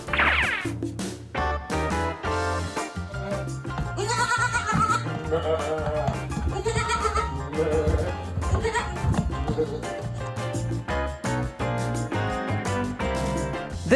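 A goat bleats repeatedly in a funny animal compilation, a series of quavering calls layered over busy background music with short pauses between them.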